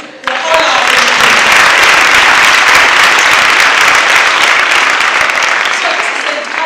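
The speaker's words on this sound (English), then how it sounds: "So let's clap hands for all our friends." A large audience at a motivational school event breaks into loud applause, beginning abruptly and continuing as a thick, even roar of clapping that tapers slightly at the end.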